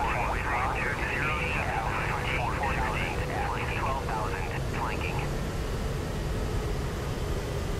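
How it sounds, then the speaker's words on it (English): The left jet engine of an aircraft starts up in DCS World, a steady loud roaring rush filling the whole stretch, with a warbling whine fading out partway through. "We got the left engine going here."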